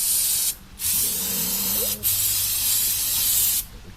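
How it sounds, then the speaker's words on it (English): Starting fluid sprays from an aerosol can onto a lawnmower part, a loud broad hiss in three long bursts separated by brief pauses, with faint low handling noise beneath. "And we just use some starting fluid to clean this off."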